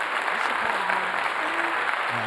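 Applause fills the clip, dense and steady throughout, with some faint tonal background sound underneath.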